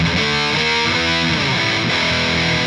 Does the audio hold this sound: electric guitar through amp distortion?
yes